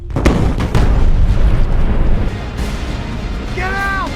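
A bomb goes off in a film scene and brings down a heavy rockfall: loud, close booming blasts open the sequence, followed by a sustained rumbling roar of falling rock and debris.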